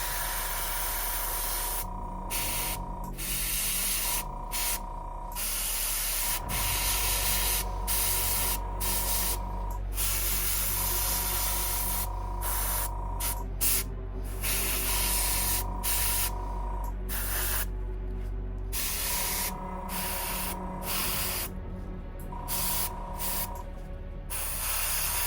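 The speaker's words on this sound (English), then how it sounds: "I'm going to just chuck a little bit in there and squirt it through" An airbrush sprays orange paint onto a miniature in a continuous close hiss, interrupted by brief breaks in the airflow and a steady low compressor hum underneath.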